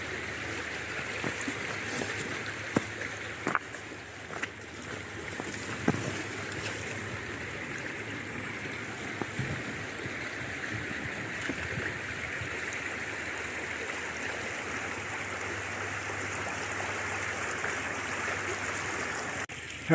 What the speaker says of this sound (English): I just found my way across this river